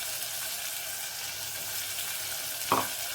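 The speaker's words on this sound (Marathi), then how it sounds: "हिरवी मिरची, लसण आणि जिरं घालून घ्यायचं." Green chili, garlic and cumin sizzle in hot oil in a pan, a steady close crackling hiss with a brief clink of a utensil near the end.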